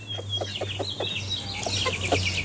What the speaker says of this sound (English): So, as you can see, they're making happy chicken noises.